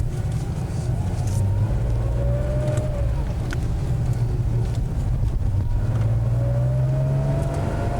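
A Porsche 911 Club Sport's big air-cooled, non-turbo engine revs on a track, loud and continuous, with rising and falling pitch sweeps as it accelerates, and wind noise buffets the microphone throughout.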